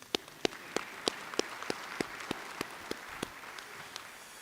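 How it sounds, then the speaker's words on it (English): Sparse, faint clapping at an optometry school welcome ceremony, a handful of evenly spaced claps from a small number of people in a large room, with no voices. "You can clap, yeah."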